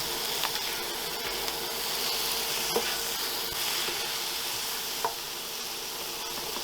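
Mushroom stroganoff with crème fraîche and parsley being stirred in a frying pan, a steady close sizzle with soft scraping and occasional light clicks of the utensil against the pan.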